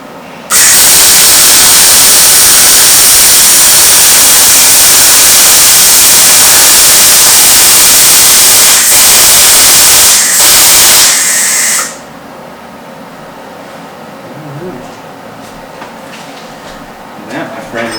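An Eastwood MIG 135 110-volt welder lays a bead on roll cage tubing, giving a loud, steady crackling hiss for about eleven seconds before it stops abruptly, leaving quiet background noise.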